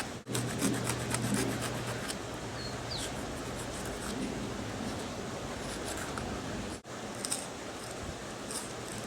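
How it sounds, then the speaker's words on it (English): Sawing and rasping into a wooden fireboard to cut a notch for a bow drill fire set, a steady close scraping and rubbing that runs almost without pause, with one brief gap near the end. "we'll go ahead and cut a notch in that"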